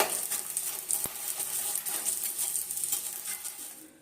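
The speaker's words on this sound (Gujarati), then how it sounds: "એને થોડું અંદર સુધી ફ્રાય થવા દેવાનું, ડીપ ફ્રાય થવા દેવાનું." Edible gum (gond) deep frying in hot oil gives a steady bright sizzle with soft popping and a single sharp metallic tap, close and continuous with no talking.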